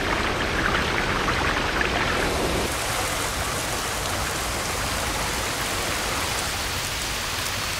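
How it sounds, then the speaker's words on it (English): Steady rain falls in a broad, even hiss over the Benthemplein water square, shifting slightly in tone partway through but staying constant and moderately loud without any voices. "As soon as it rains, water will flow through the wide open gullies into the two shallow basins."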